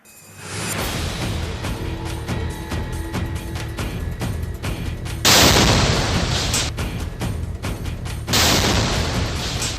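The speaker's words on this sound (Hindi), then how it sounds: "कटीली तारों पर टंगे झंडे से हुआ ये धमाका सुर्खियां बटोर रहा है" A heavy blast followed by sustained rumbling and crackling, with two more sharp bursts later; loud and harsh throughout, no voices.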